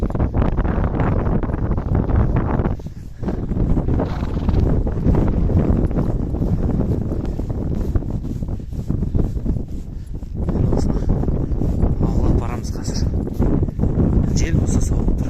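Strong outdoor wind blusters against the microphone in open countryside while a herd of horses is driven home, making a loud, continuous roar with a short lull early on.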